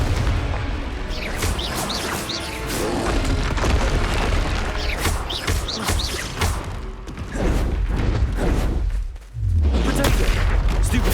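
Confringo fire spell explosions in Hogwarts Legacy blast repeatedly over about eleven seconds, a dense run of loud booms and crashing impacts with rumbling low end and a brief drop before a final heavy burst.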